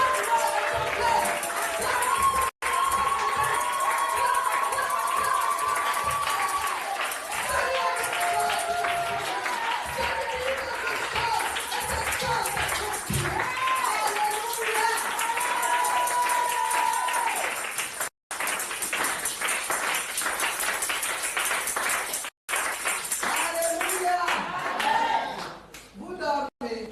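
A church congregation at a worship service cheers and claps in acclamation, sustained applause and shouting voices filling the room over a loud, continuous crowd.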